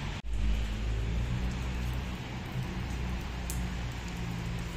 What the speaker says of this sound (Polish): Jeszcze pada.